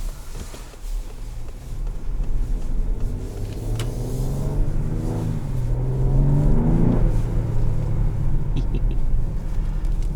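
A 2021 Ford Explorer Platinum accelerating in sport mode, its engine rumble rising steadily and loud inside the cabin, with a swelling harmonic whine through the middle of the pull and no talking.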